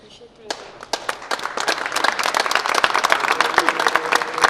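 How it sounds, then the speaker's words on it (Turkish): An audience applauds after a plaque and flower presentation to a choir, scattered claps starting sparse and building quickly into loud, dense clapping up close. "Çok teşekkür ederim alkışlarınız için."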